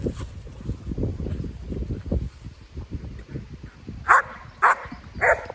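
A dog barks three times in quick succession near the end, sharp and close, after a stretch of lower rustling and handling noise outdoors near a car park.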